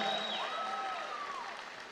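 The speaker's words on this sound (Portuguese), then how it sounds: "pedir uma salva de palmas a ela" Faint, distant clapping from an audience at a Brazilian political event greets minister Simone, a brief steady patter with a few high whistles over it.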